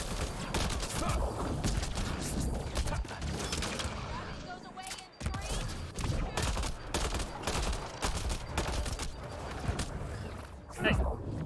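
Steady gunfire in the video game Mass Effect Andromeda: dense, rapid rattling shots and impacts nearly without pause, a short break midway, under a player's talk.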